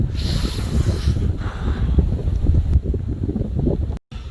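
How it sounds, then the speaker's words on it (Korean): Strong, cold wind blowing on a mountainside during a winter hike, a loud continuous rushing roar buffeting the microphone, with gusts swelling and easing and a brief dropout near the end. "바람은 엄청 부네요, 진짜"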